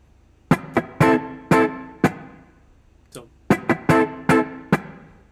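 Clipped, percussive electric guitar riff with muted scratches and short punchy chord stabs in a syncopated funk rhythm, played close and dry.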